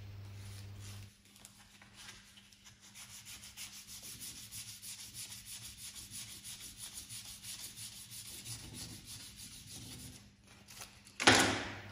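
Sandpaper rubs steadily by hand against an alloy car wheel being prepared for refurbishing, a continuous close scratchy rasp of even rhythm that ends in a brief louder scrape.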